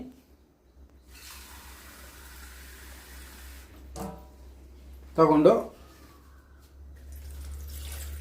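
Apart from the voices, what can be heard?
water being poured into a vessel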